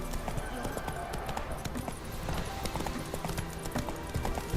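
Roach the horse galloping in The Witcher 3 video game, a continuous rapid clatter of hooves under dense game music and ambience, faint within the busy mix.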